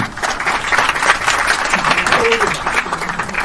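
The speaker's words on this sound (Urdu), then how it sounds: "آپ سب کی طرف سے ڈھیر ساری تالیاں بجنی چاہیے" Audience applause at a memento presentation during a community event, a dense steady wash of clapping from a seated crowd that holds for several seconds at fairly even loudness.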